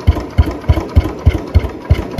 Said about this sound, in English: and the engine is running properly.